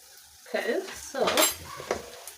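A utensil scrapes and clinks against a pan as flour is mixed into a mushroom sauce, giving a few bursts of close metallic stirring separated by brief pauses, with no voices.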